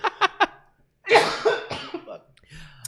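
A person gives three quick, sharp coughs close to the microphone, followed by a pause and then a burst of talking or laughter.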